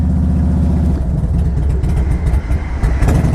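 A Harley-Davidson Softail Deuce, a carbureted bike with about 12,900 miles and a slightly low battery, idles up close with a loud, lumpy low-pitched rumble and a few short throttle blips toward the end.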